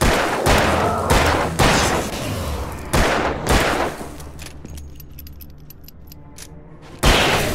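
Gunfire in the video game Alan Wake, several loud sharp broadband shots spaced irregularly across the stretch, with a quieter lull of faint tinkling game ambience before a final shot.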